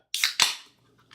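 A soda can pops open with a sharp metallic crack followed by a quick hissing fizz and a second burst, close and brief, then fading to near silence.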